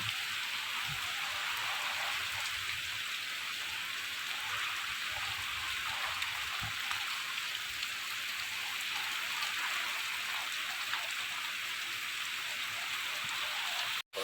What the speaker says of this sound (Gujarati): વરસાદ વધી ગયો વધી રહ્યો છે